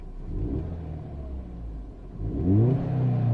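The Ford Fiesta ST Mk7 engine idles up close, then revs in two rising pulls, the second louder and climbing higher before holding at a raised roar.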